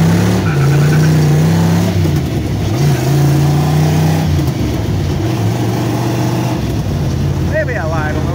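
A 1965 Plymouth Fury with a 440 engine, four-speed and Holley carburetor revving hard during a burnout, its loud, steady engine roar rising and falling, with a voice heard over it.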